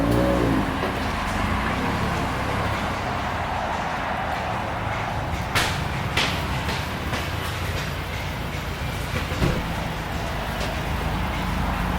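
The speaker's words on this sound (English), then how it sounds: "For being full turbo back exhaust, she is not loud at all." A car fitted with a full turbo-back exhaust drives along, its engine and road noise forming a steady, fairly quiet drone with a few brief louder swells and no talk.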